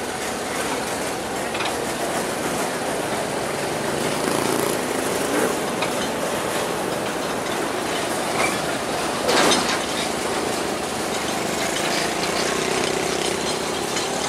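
A D06 locomotive rumbles steadily across a bridge, a dense continuous roar of wheels and rails with faint rhythmic clatter and a brief squeal midway, loud and close throughout.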